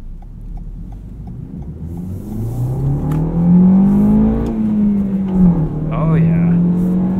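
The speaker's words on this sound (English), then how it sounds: "let's give this a little bit of acceleration run here" A 2019 Toyota Corolla XSE Hatchback with a 6-speed manual accelerates through first, second and third gear, its engine rising in pitch, dropping at each shift and climbing again, heard close from inside the cabin.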